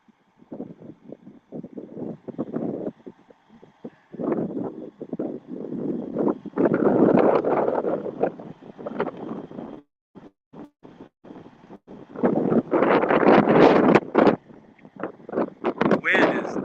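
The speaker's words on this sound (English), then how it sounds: "The wind is nasty out here." Strong outdoor wind buffets the microphone in loud, gusty rumbling bursts beside railroad tracks while a northbound train approaches, with someone speaking intermittently between gusts.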